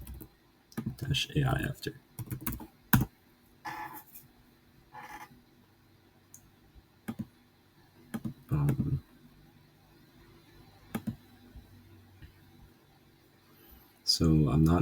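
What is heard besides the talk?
typing on a computer keyboard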